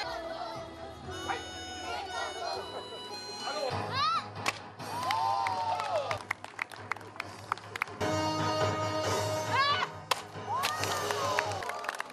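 Audience gasps, cheers and bursts of applause from a seated crowd at a children's taekwondo demonstration where pupils break wooden boards, rising in waves over music and a narrating voice.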